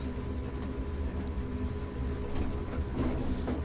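A DB class 155 electric locomotive in Train Sim World pulls an empty freight train away at low speed, giving a steady low rumble with faint rail clatter and no talk.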